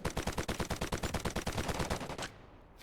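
Rapid automatic fire from an M7 rifle in Delta Force mobile, a loud, steady stream of roughly two dozen close shots in quick rhythm, stopping abruptly after about two seconds.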